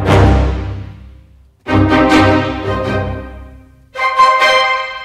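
A full orchestral sketch plays back from a template in three swelling chords, each rich and sustained before fading, with the last entering brighter and denser.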